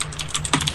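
Rapid computer keyboard typing, a quick run of close, crisp key clicks in an uneven rhythm with no talk, under a steady low hum.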